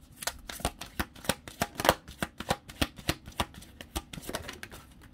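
Tarot cards being shuffled and pulled from the deck, a steady run of crisp riffling slaps and snaps close to the listener, with no talking over them.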